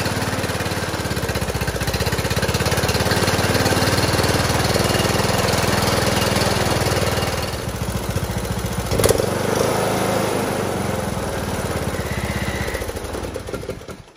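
A John Deere D100 lawn tractor with a 17.5 hp Briggs & Stratton engine runs steadily after a camshaft change, a loud, close, continuous drone that eases slightly in the last few seconds.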